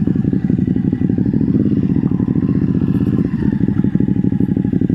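A Ducati Hypermotard 950 SP with a Termignoni exhaust runs loud and near, its twin engine giving a steady, pulsing throb under rattling clatter.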